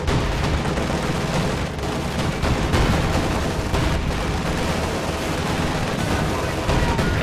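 Tank cannon fire from a video game battle, rounds striking a Panther tank's frontal armor, dense overlapping booms and rattling impacts in a continuous loud barrage.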